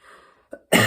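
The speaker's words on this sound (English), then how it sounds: "Make me cough doing that." A short, soft throat sound followed by one loud, harsh cough close by.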